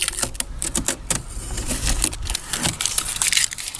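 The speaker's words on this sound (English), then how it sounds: "now we're back after 24 hours and we're gonna peel off this tape" Tape being peeled off a faucet handle freshly glued with Sugru mouldable glue, giving a run of crackly, crinkling rips and small snaps close up, with no talking.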